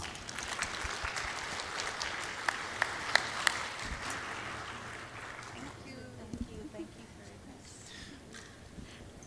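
Applause from a conference plenary audience, dense clapping with a few sharp louder claps for about six seconds, then fading to sparse scattered claps and room noise.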